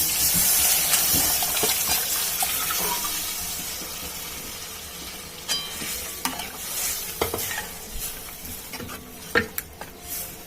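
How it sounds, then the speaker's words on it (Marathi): Boiled mutton goes into frying masala in a pan: a loud steady sizzle and hiss at first, easing off, then scraping stirs and clinks of a spoon toward the end. "5 मिनिटं मंद आचेवर मसाला भाजून झाल्यावर आपण हे उकळलेलं मटण आतमध्ये ऍड करूया"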